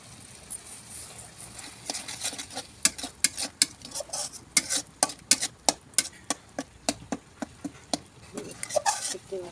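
Mustard seeds popping in hot oil over a wood-fired stove, a fast irregular run of sharp crackles and pops close by, growing denser and louder toward the end.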